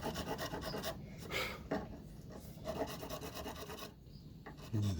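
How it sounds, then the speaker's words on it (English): Steady rasping of a file and sandpaper working a wooden guitar neck, close and continuous with brief pauses between strokes. "file and sand them"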